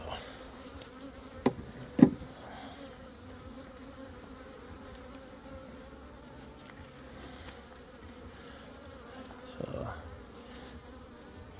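Honey bees buzzing around an open hive during an inspection, a steady low drone throughout with a few brief clicks and bumps of handling nearby; a voice briefly speaks.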